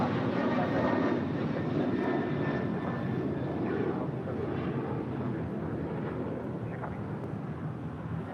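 An ANA Boeing 787 Dreamliner in special livery turns left onto a taxiway at LAX, its steady engine roar holding at moderate distance for the whole stretch.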